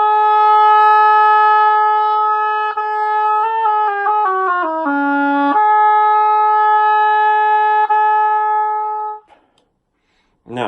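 Oboe played with a relaxed, long-lipped embouchure likened to an anteater's snout: a sustained reedy tone held loud and steady, dipping through a short series of descending pitch bends before returning, then cutting off into near silence.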